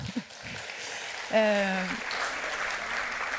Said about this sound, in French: on peut applaudir aussi les coordinateurs.